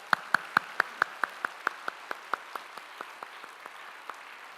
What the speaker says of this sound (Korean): 여러분들의 격려의 박수가 필요합니다